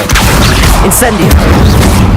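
A fiery Incendio spell bursts in Hogwarts Legacy, a dense booming crackle that fills the whole stretch at close range, with a faint murmur of game sound beneath.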